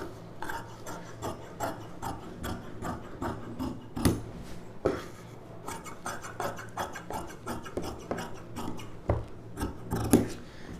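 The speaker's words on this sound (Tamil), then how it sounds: "இதில் ஒரு ஸ்லீவ் கட் பண்ணிடுச்சு." Scissors snip through fabric for a puff sleeve on a girl's pavadai sattai, a quick run of short, crisp cuts with small rasping pauses, close and fairly quiet, no talking.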